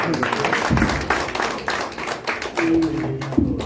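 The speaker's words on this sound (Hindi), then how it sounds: "मैं जोरदार ताली से हम आपका भी स्वागत करेंगे।" An audience at a yoga and naturopathy health camp applauds to welcome a guest with steady, dense clapping throughout, while people talk over it.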